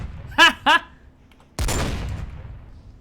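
Gun firing in Minecraft video game: two quick sharp shots close together, then a pause and a longer burst of noisy rumbling fire.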